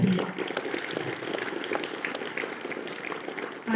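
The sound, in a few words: audience applause for ceremony officers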